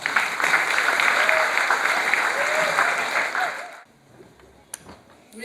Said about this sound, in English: Please give all the participating school and the participation a very huge round of applause